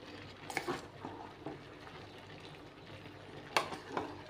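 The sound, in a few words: vegetables and coconut masala sautéing in a pan for avial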